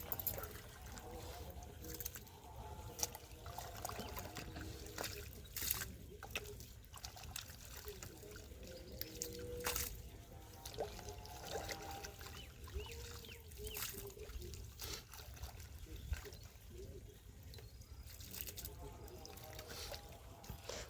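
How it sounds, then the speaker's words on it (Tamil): In a garden with muddy soil and sprouting plants, water trickles and splashes along a channel and is poured out with a cup, giving a soft, continuous gurgle with scattered splashes and faint background noise. "தண்ணி ஓடியாந்துச்சுனாமா அப்படியே கப்பை வச்சு முண்டு ஊற்றி விட்டுறலாம் நம்ம"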